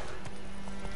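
Roach the horse galloping in The Witcher 3: Wild Hunt, quick hoofbeats under a constant game background hum, brief and fairly faint.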